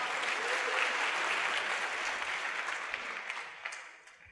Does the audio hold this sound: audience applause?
yes